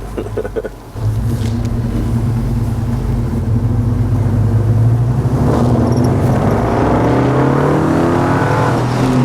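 A car's aftermarket exhaust rumbles loudly as the driver eases on the gas through a right turn, a deep throaty burble that builds and holds steady after a short quieter start.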